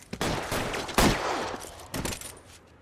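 Gunfire in a police shootout in the video game L.A. Noire, a rapid volley of loud close shots with a heavy burst near the middle and another toward the end, echoing briefly between bursts.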